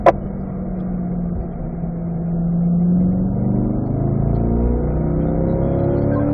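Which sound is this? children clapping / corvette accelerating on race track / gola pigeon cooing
corvette accelerating on race track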